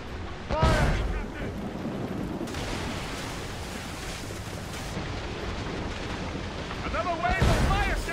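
Heavy ship cannons boom in a naval battle in Assassin's Creed Rogue, with a deep blast near the start and another toward the end over crashing waves, and shouted voices in between.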